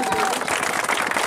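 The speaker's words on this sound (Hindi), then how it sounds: "चलिए भैया ताली बजाइए" Brief burst of audience applause at a live show, many hands clapping together at close range, lasting just over a second.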